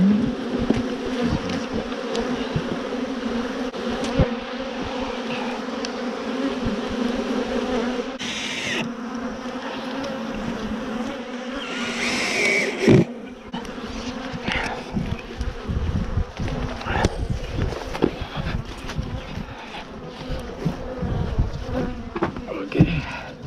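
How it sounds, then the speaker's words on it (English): Agitated honeybees buzz steadily and densely around an opened hive during an inspection, a loud, continuous swarm drone with occasional individual bees passing close. "The bees are incredibly agitated, so I'm gonna have to finish up my hive inspections."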